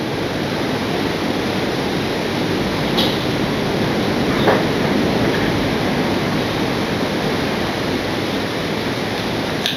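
A model Flying Scotsman train runs on a model railway layout, giving a continuous, fairly loud whirring rush with a couple of faint clicks and no talking.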